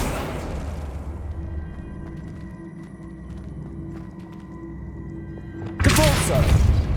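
An Accio spell from the Hogwarts Legacy video game lands as a sudden bright, loud burst near the end, following a long stretch of low rumbling game ambience.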